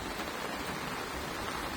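Heavy rain falling as a dense, even hiss, loud and unbroken throughout with no voices.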